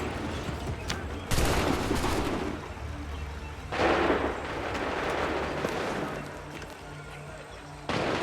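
Musket volleys in Assassin's Creed III battle: dense crackling bursts of massed fire at about 1.3 s and 3.8 s, with a fresh volley starting near the end, over a constant rumbling battlefield din.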